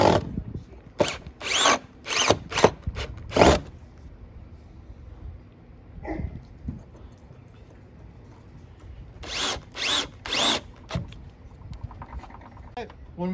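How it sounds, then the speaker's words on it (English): A power drill with a Phillips bit drives screws to mount a bracket at the top of a fence, in two clusters of short, sharp whirring bursts separated by a quieter pause. "using a drill and a Phillips fit, I could just mount that directly at the top."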